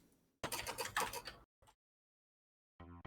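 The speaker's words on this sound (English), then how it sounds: "Keyboard's a little loud, huh?" Clicky computer keyboard typing during a live game broadcast: a rapid, dense burst of keystrokes lasting about a second, a single brief click, then another short run of keys after a pause.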